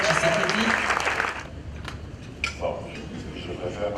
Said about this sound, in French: un tonnerre d'applaudissements pour ce discours de la distinguée première dame